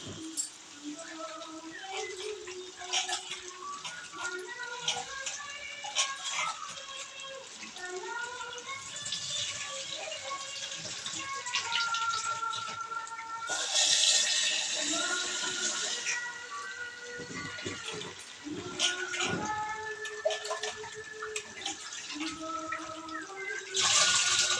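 Soaked rice being rinsed in water two or three times for mun cutti biryani: continuous sloshing, swirling and pouring water close up, with brief louder splashes, under a voice speaking over the sound.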